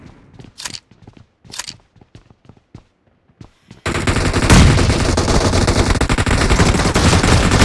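Video game gunfire in an arena match with an M1014 shotgun: a few sharp, separate blasts and in-game callouts first, then a loud, sustained barrage of overlapping shots and explosions.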